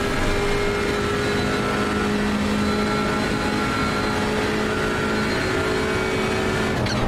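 Race car engine drone inside a Hyundai Elantra competing at Daytona, steady and loud throughout, as a Mazda race car comes alongside and passes on the track.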